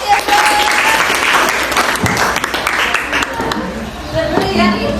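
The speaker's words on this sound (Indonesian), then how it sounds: "Oke, kasih aplaus." A group applauds during a classroom lesson, dense clapping that stays loud and steady throughout, close and filling the room.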